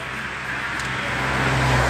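A car engine runs steadily up close, a continuous low hum with broad road-like noise, growing slightly louder toward the end, with no voices.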